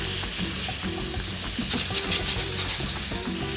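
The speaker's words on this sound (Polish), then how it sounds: "teraz dbamy o to, żeby nabrała rumieńców, czyli lekko się przypiekła, przysmażyła" Sliced sausage sizzles steadily in a frying pan as it browns for a burrito, with a dense continuous crackle and occasional stirring scrapes close up.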